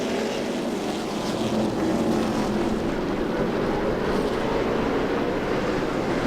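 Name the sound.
stock cars racing under green flag at 2015 Menards 200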